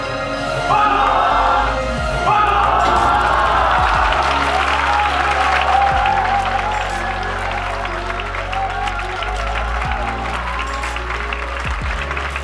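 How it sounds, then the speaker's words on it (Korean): Sustained standing ovation from a crowd after a close-up card magic trick, dense continuous clapping with some cheering holding steady for the whole stretch. "기립박수"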